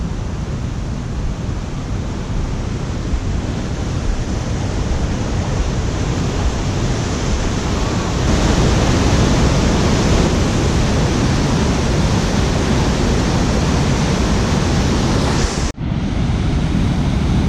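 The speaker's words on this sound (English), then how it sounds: "Very calming to just sit and watch the waterfall" A glacier-fed waterfall in Glacier National Park pours in a constant, dense broadband roar, loud and unbroken, swelling slightly midway before a brief dropout near the end.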